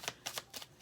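Tarot cards being shuffled by hand up close, with four quick papery riffling bursts in under a second.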